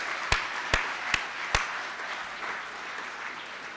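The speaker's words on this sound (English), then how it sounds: "let's give them one more big round of applause" At a school winter sports awards ceremony, four sharp, evenly spaced claps ring out close by over a steady, soft wash of crowd noise that carries on after the claps stop.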